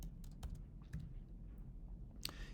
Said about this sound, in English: what I'm going to do is type in the function